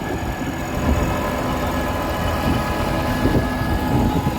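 A New Holland 5620 CRDI tractor engine runs steadily in a farm field with a rotavator, a continuous, even rumble with no voices.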